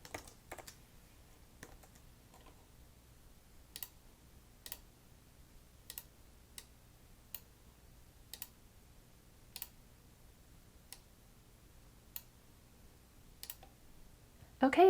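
Text is typed on a computer keyboard in a quiet room, with sparse, irregular key clicks spread across the stretch and a louder burst of clicks at the very end.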